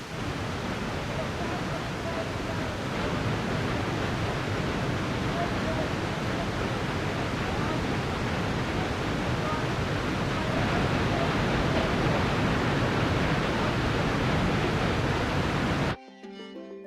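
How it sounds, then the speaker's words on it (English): Thunderous roar of the Nam Muang waterfall in Thailand, a loud, steady broadband rush of falling water that fills the whole stretch before cutting off abruptly near the end. "the thunderous spectacle of the Nam Muang waterfall"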